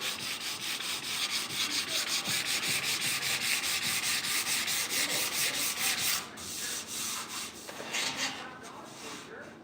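Sanding on the metal grill shell of a 1968 Chevrolet C10 before epoxy primer, heard as continuous close scratchy rubbing strokes at a steady level that ease off briefly near the end.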